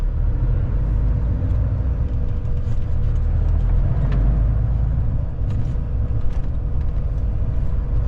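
A loaded truck driving along a city road with trolleybus wires overhead, its steady low engine rumble and road noise continuous and close throughout, with a few faint higher clatters.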